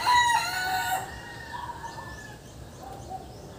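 A purebred Kelso gamefowl rooster crows once, loud and close, the call lasting about a second and then trailing off. Quieter farmyard noise follows, with no talking.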